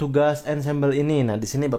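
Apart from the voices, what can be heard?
No distinct noise like a dog, phone or traffic.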